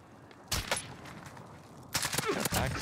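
Gunfire in Warzone, a shooter video game, crackling in two loud bursts about a second and a half apart, with a shorter crack between them and a faint voice beneath.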